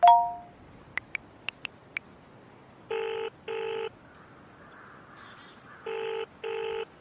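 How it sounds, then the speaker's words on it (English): Mobile phone dialing: a short ringing tone, then five quick key beeps followed by two pairs of steady ringback tones separated by a pause, clear and close. "it's a mobile phone"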